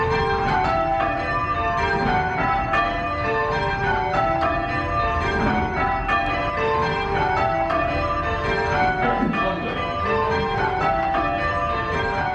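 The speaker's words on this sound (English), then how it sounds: "So a nice light 6 like these can really be a lot of fun to ring, especially if they sound as great as these bells do." A light ring of six church bells in an American bell tower being change ringing, with strikes tumbling over one another in a continuous even rhythm and a dense bright metallic wash of overlapping tones, loud and unbroken.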